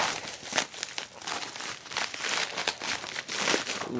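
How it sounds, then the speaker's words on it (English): Bubble wrap packaging around a Kingdom Hearts 1.5 HD ReMIX order is crinkled and pulled apart nonstop, close and moderately loud, with dense rustling and small crackles and no talking. "Bubble wrap."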